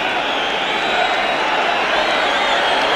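Steady, distant murmur of a large football crowd at Chelsea's ground awaiting kick-off of a cup match against Ipswich Town, a continuous broad hubbub with no distinct cheers or claps.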